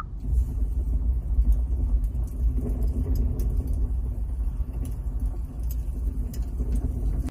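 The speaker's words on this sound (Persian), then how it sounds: "بعدی صدای یک شومینه گرم که اینطوریه." A warm fireplace ambience plays from the built-in nature sounds of a 2020 Hyundai Sonata, a steady low rumble with faint soft crackles scattered over it, even and continuous throughout.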